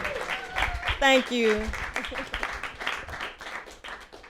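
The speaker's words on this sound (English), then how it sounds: "Y'all give it one more round of applause." Audience applause in a small room at a live music session, scattered clapping continuing under a voice and a brief sung or spoken phrase.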